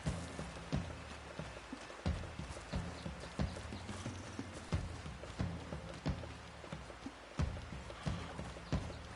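A horse walks outdoors on a trail ride, its hooves clip-clopping in a steady, moderately close rhythm for several seconds with no talking.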